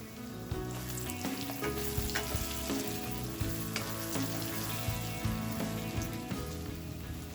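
Sliced tomatoes frying in oil with red chili powder and spices for chicken kosha, a continuous soft sizzle with rhythmic stirring scrapes and taps, close, no voices.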